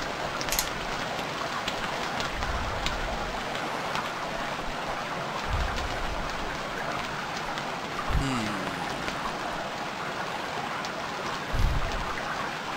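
Steady rain hisses throughout in the survival game Stranded Deep, a dense even patter on an island coast with a few brief low thumps and no talk.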